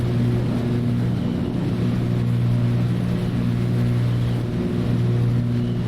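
Twin piston engines of a Cessna C310R climbing in a flight simulator, a steady loud drone with strong low harmonics held evenly throughout, no voices.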